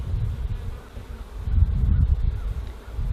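Honeybees buzzing low and steady around an opened hive as frames are lifted out, a dense hum that swells louder midway with faint rustling.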